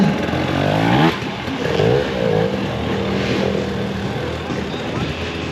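Enduro motorcycles race at the Getzenrodeo hard enduro event, engines revving and roaring up close, one bike's pitch rising and falling, with a commentator talking over the noise throughout.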